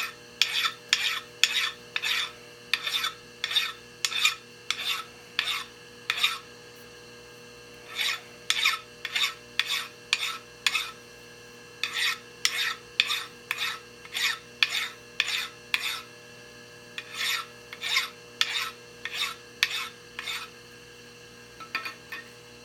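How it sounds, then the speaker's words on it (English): A milled metal part is deburred by hand with a file, giving brisk repeated rasping strokes in rapid bursts of four to six, separated by short pauses, close and clear over a faint steady machine-shop hum. "So I have to deburr it."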